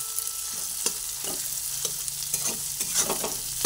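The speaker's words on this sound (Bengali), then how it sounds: "আবার ভালোভাবে এটা ভেজে নিচ্ছি।" Potato filling seasoned with black pepper and salt frying in a pan, a steady sizzle broken by repeated scraping stirs of a spatula, close and moderately loud.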